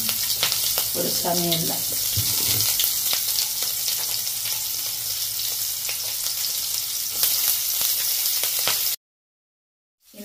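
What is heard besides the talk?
beetroot frying in hot oil in a pan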